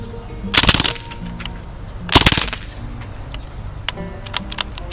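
Crosman DPMS Panther Arms SBR airgun fires two sharp, rapid rattling bursts of shots close by, followed by a few scattered single clicks.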